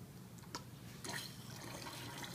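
Hot water is forced through a gelatin art tool to push out stuck gelatin, a steady close-up watery rush and gurgle with a couple of brief squirting bursts, no talking.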